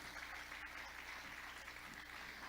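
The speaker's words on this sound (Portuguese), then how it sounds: "aplauda o Senhor" A church congregation applauds during a Sunday service, a faint, distant, continuous wash of clapping that holds steady for a few seconds.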